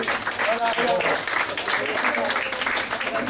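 Applause from an audience at a French gathering as a woman is called forward, a steady clapping wash under voices and a few louder shouts throughout.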